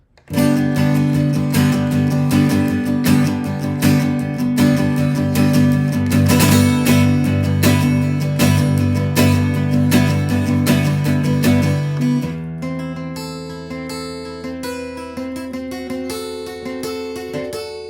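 Acoustic guitar in standard tuning strums chorus chords with a bright, full ring, sustaining loudly without talk before the strumming thins out toward the start of the next verse.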